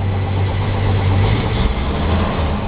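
A Studebaker car engine idling close by, a steady low rumble with a constant hum and slight vibration, unbroken and alone for the whole stretch.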